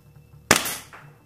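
A WE PDW airsoft gun, fitted with an RA-Tech barrel and N.P.A.S. hop-up, fires a single sharp, loud shot through a chronograph at close range, with no speech.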